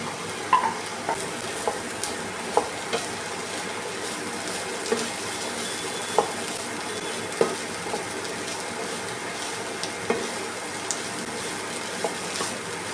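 Brinjal and crushed coconut being stirred in a pan for thoran, a soft continuous sizzle broken by regular sharp scrapes and taps of a spoon against the pan.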